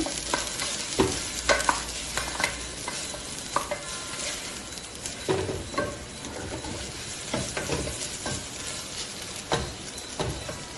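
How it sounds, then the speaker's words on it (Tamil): Chicken pieces for a pepper chicken fry sizzle steadily in a pan while a spatula scrapes and turns them in irregular strokes, close and fairly loud throughout. "Two minutes நல்லா வறுத்துடுங்க"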